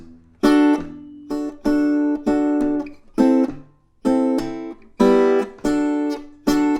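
Open guitar strings strummed in a steady rhythm, each chord ringing briefly before the next stroke, clear and close.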